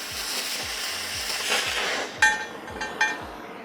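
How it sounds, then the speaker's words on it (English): A portable CNC cutting machine runs a torch across steel plate, making a steady hissing roar with rhythmic low thumps beneath and a couple of sharp metallic clinks near the end. "We got this O2 button to turn on the jet manually, and I can just hold that button down."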